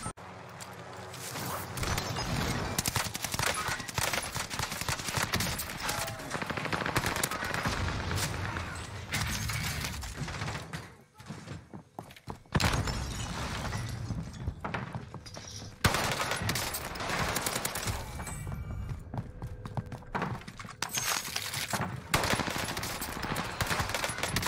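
Dense gunfire in the Warzone video game: long bursts of automatic fire and rapid single shots rattle almost nonstop, loud and close, with a few short lulls between volleys.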